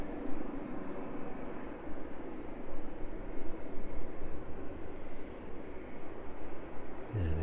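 A jet taxiing along the taxiway toward runway 27 at East Midlands Airport gives a steady, broad engine roar at moderate distance, continuous throughout with a faint brief rumble near the end.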